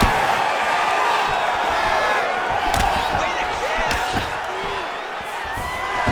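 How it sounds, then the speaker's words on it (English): Takedown slam in a UFC 5 video game women's strawweight fight, thuds and impacts under a constant roaring arena crowd while a commentator talks throughout. "She already secures her first takedown attempt against the more well-rounded fighter."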